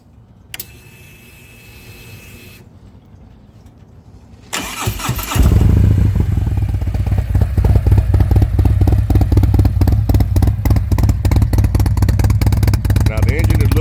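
A 2023 Harley-Davidson Road Glide fitted with a full Tab Performance exhaust starts after a few clicks and a brief crank, then settles into a loud, deep, lumpy idle with a steady rapid pulsing, recorded close up.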